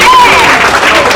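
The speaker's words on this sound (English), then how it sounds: "Let's give him a round of applause." Crowd applause at an outdoor parade in Brooklyn, a short loud burst of clapping and cheering with a voice faintly over it.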